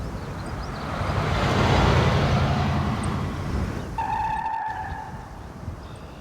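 A car passes with a broad, steady road rush that swells, peaks, then fades, followed by a brief higher tonal whine near the end. It sounds moderately close, and no one speaks.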